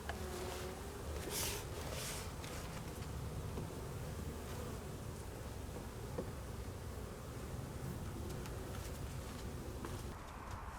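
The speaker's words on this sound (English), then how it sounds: "the bees are flying more than I thought they would be" Honeybees buzz around an outdoor hive on a mild January day. The steady, close droning hum runs the whole time, with individual bees passing near and rising and fading, and there is no talk.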